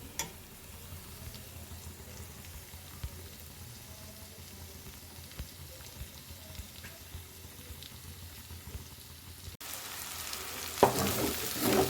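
Grated coconut fries in a pan for biryani, a soft continuous sizzle with occasional spoon taps, rising to a sharper, louder crackle near the end.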